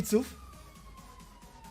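A police car siren wails at a distance as a thin steady tone, faint beneath brief loud voices at the start and ongoing chatter.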